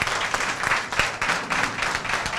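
A church congregation claps hands together in a steady, continuous patter, fairly loud and close, with rhythmic pulses running throughout.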